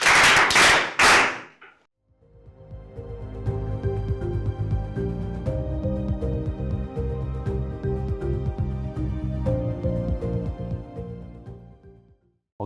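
A classroom of students claps for a classmate, steady fairly loud applause that runs for about ten seconds after a brief burst of a teacher's voice, then fades out.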